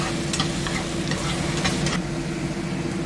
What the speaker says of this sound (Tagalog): Now we're going to fry our garlic.